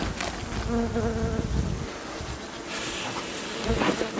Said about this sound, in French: les abeilles l'assèchent avec leurs ailes